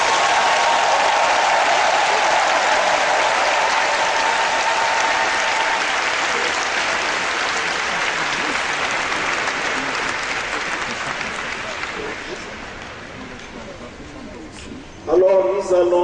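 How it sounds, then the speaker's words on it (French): Loud, sustained applause from a large crowd at a Catholic consecration ceremony in Yamoussoukro, Côte d'Ivoire, filling the space for about fifteen seconds before fading slightly as voices break through near the end. "Nous applaudissons très fort."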